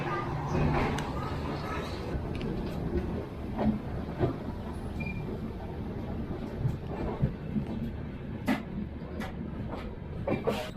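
Punjab Mail passenger train pulling out of Jhansi Junction, a steady rumbling roll along the rails with rhythmic clacks and occasional knocks, continuous and fairly close throughout, with voices speaking faintly in the background.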